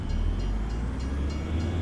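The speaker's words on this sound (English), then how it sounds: "Playing with the train again." Train passing in Farming Simulator 25, a steady low rumble of wheels and engine with faint periodic clacks, heard alone without talk.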